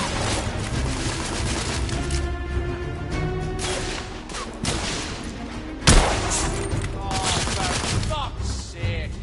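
Combat in The Order: 1886, with scattered gunfire crackling throughout and one sharp, heavy grenade explosion partway through, mixed with raised voices and shouting.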